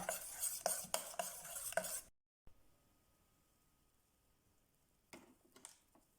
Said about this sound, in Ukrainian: Перемішуємо до однорідності або ж збиваємо блендером, щоб не було ніде грудочок.